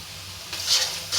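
Ground chili, turmeric, cumin and coriander with salt fry in a pan, giving a faint, steady sizzle that swells into brighter hissing bursts partway through and again near the end.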